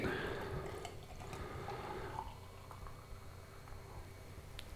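Rhaner Kellerbier poured from a bottle into a glass, a close, quiet gurgling trickle with foaming patter that gradually thins out over a few seconds.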